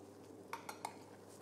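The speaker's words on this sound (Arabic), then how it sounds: "قلب شوي المعجون" A utensil scrapes and taps three times against a pan while tomato paste is stirred into tomatoes, faint and close, with a quiet background and no talking.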